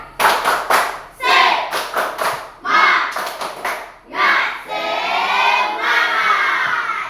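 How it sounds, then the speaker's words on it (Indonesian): Schoolchildren in a primary-school classroom perform a rhythmic spirit clap, bursts of clapping in patterned groups separated by short pauses, ending in a longer continuous stretch of clapping mixed with shouting voices. "Kita tepuk semangat."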